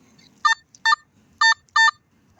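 A metal detector's electronic signal tone sounds over a buried target in a coin-hunting field, as a series of five short, bright, clear beeps in an uneven rhythm, loud and close with little else around them.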